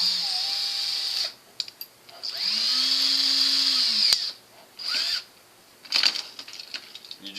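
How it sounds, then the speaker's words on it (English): A close electric drill with a 7/32 bit whines in bursts drilling plastic Nerf blaster parts, spinning up and winding down several times with short pauses between runs. "I like to use a 7/32 size drill bit, an electric drill."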